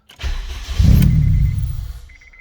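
A 2003 Acura RSX Type S cranks and fires up close by, its engine settling into a loud, steady rumble for about a second before fading, with a brief high whir as it catches.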